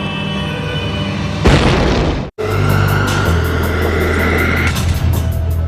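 A massive explosion tears through the S.E Fireworks facility in Enschede, a loud sudden broadband blast followed by a brief cut, then a sustained roaring rumble with rhythmic pulsing over a low drone.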